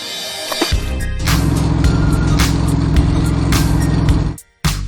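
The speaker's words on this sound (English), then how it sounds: "Carrier car." A car carrier truck drives along, a steady loud low engine rumble with a sharp onset after a brief quiet start, running continuously and cutting off near the end.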